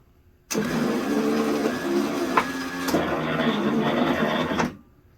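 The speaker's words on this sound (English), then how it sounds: "I plugged the motor back in, and let's see how it runs" A Pontiac Fiero headlight motor whirs steadily for about four seconds, a close mechanical drone with a brief clunk partway through, then stops.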